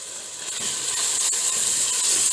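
Whole cumin, chili, turmeric and coriander powder roast in hot oil in a pan for achari aloo baingan, giving a constant close sizzling hiss with faint scraping.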